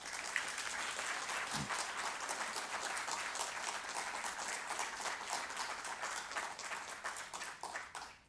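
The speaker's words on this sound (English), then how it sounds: "Please give me a big applause for showing the gratitude for the person none other than Pawan Thakre" An audience at a convocation ceremony applauds at length, with sustained, even crowd clapping that sounds somewhat distant and fades slightly at the end.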